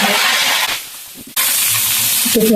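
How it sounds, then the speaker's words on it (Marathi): Salted green chillies fry in hot oil in a slotted ladle, a loud bright sizzle that drops away briefly and then surges back as they hit the oil again. "मिरच्या अशा झाऱ्यामध्ये टाकून तळून घ्यायच्या"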